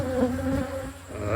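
Honeybees buzzing in a backyard hive during an August inspection, a close, continuous droning hum that wavers in pitch for about a second and a half.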